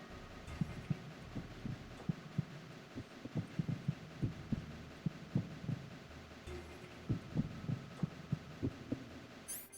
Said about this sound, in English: Heartbeat did sound weird.